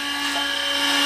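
High-pitched whining grind of a power tool widening the crankcase of a TMX155 motorcycle being converted to 175cc, a brief loud steady tone with no talking.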